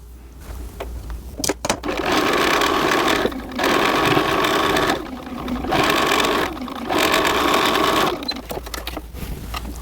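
A sewing machine runs a permanent stitch across the width of a doll dress's bodice and skirt, humming steadily in several long bursts separated by short pauses, close and loud with no talking.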